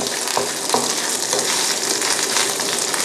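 A pan sizzles steadily over low heat while something fries slowly and a utensil scrapes stuck bits from the bottom, a dense continuous hiss with occasional scraping knocks, close up and without speech.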